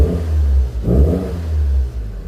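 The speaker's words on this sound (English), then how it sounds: "Should be safe to blip the throttle a touch." A Toyota Celica engine revs in two quick throttle blips over a steady idle, close and loud, with no talk.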